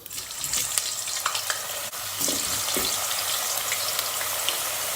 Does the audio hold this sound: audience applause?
no